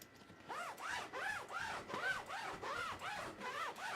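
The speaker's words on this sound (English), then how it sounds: "and then you've got the ACI zipper." Zipper on an ACI grow tent pulled in repeated strokes, about seven rhythmic rasping zips in quick succession, close and fairly quiet with no talk.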